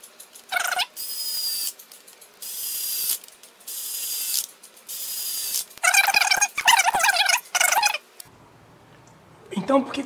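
Torque wrench ratcheting in several separate bursts of rapid clicking while clutch bolts are tightened to low torque on a Yamaha XV 250 Virago motorcycle, close and fairly loud, with pauses between runs and a short low hum near the end.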